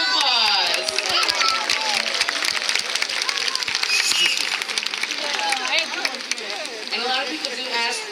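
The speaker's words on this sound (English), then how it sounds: "give them a round of applause" Audience applause rings out at a SeaWorld San Diego orca show featuring Kalia and Shouka, a steady broadband wash of clapping over a crowd, with a voice talking through it.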